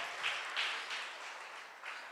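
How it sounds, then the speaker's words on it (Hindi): A church congregation at a Sunday evening Hindi service applauds to welcome a guest from Assam, Guwahati, and his family: a steady wash of clapping with a few swelling peaks, fairly distant and moderate, with no talk over it. "क्यों ना हम उनके लिए जोरदार ताली बजाते हैं इस समय।"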